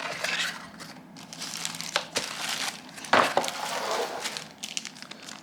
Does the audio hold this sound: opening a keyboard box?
yes